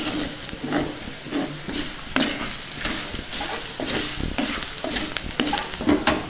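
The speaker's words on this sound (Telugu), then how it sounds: "కొద్దిగా ఉప్పు, అలాగే కొంచెం గరం మసాలా. దీన్ని బాగా కలుపుకుందాం." Elephant yam frying in a pan with salt and garam masala, stirred with a spatula: a steady sizzle under repeated scraping strokes and occasional clinks, close and fairly loud, no talking.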